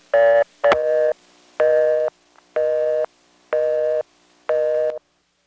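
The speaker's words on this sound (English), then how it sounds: "Now, here's what it sounded like on that previous call when it timed out." A 1974 NX1 crossbar telephone exchange in Greenville, North Carolina times out on a call, giving six loud, evenly spaced bursts of a steady multi-tone busy signal with short silent gaps between them, with no voices.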